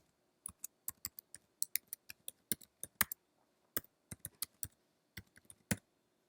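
Quick, crisp keystrokes on a computer keyboard tapping out a domain name, in short irregular bursts with brief pauses, close and fairly quiet with no voices.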